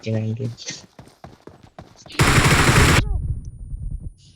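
P90 submachine gun firing a loud, dense automatic burst of just under a second in BGMI, the mobile battle royale game, preceded by voices talking and followed by quieter game sounds.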